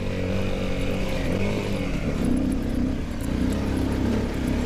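A Honda CRF250L dual-sport motorcycle engine in first gear on a forest trail, a steady buzzing drone with harmonic engine tones throughout, close and continuous with no talking.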